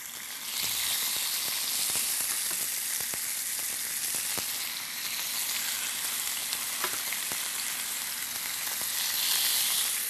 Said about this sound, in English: There's my sizzle.